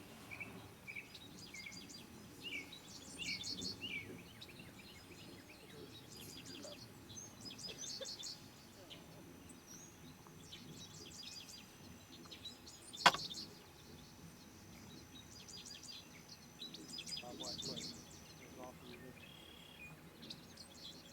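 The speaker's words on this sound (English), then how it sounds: "I just want you to listen to the birds" Assorted birds sing and chirp across a farm in Harrison, Arkansas, with bright, repeated phrases from several directions at moderate distance, a faint insect hum underneath and one sharp tap partway through.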